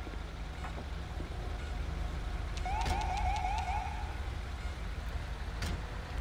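Ambulance siren in the video game GTA 5, heard as a brief patterned wail and yelp burst partway through over a steady low engine rumble, with a couple of sharp clicks.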